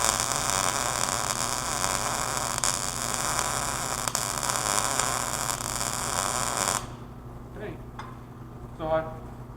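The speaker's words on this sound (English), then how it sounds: "So I'm just going to run a quick little bead on here, make sure that it's all running proper" A MIG welder with gas and wire runs a quick test bead on a steel workpiece, making a steady crackling buzz over mains hum for about seven seconds before cutting off, followed by a brief faint voice.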